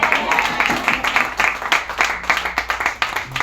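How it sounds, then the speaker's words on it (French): A church congregation claps and cheers in praise, with dense, rhythmic applause and scattered voices filling the room throughout. "Acclame le nom de Jésus."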